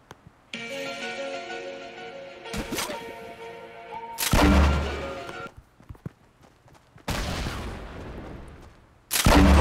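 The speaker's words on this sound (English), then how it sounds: "he's actually shooting me" Bursts of gunfire in a video game shootout, several loud broadband blasts separated by quieter stretches with a sustained tonal game sound early on.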